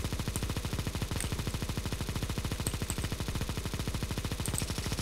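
A Negev machine gun fires in CS:GO, one long continuous stream of rapid, evenly spaced shots at a steady loud level, with faint clinks of spent casings scattered above.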